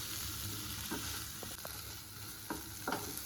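Peeled potato pieces are stirred in a frying pan, a faint, continuous sizzle broken by a few soft scraping stirs, with no talking.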